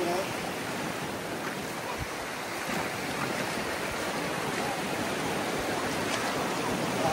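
Sea waves wash onto the shore at Tiruchendur where the water has receded, a steady broadband surf roar with soft breaking swells, continuous and fairly loud, with no talk over it.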